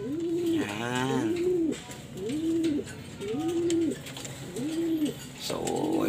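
Racing pigeons coo in repeated rolling phrases, four or five bursts with short gaps, fairly close, over a faint background hum.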